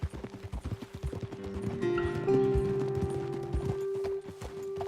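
Horse hooves clip-clopping in the Red Dead Redemption 2 video game, a steady close trot of several horses that slows near the end, with a sustained musical tone droning underneath.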